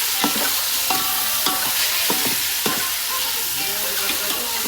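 Chicken for biryani sizzles and fries in a pot, a constant bright hiss broken by repeated scraping stirs of a utensil against the pot, close up and without talk.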